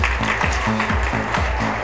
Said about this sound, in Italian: Un grande applauso, veramente.